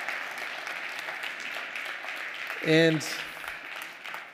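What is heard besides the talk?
applause for the panelists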